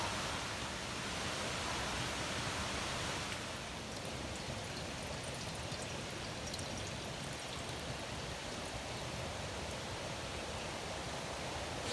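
A stream flowing beside a backpacking campsite in Shenandoah National Park, a steady broadband rush of water, continuous and even throughout with no voices.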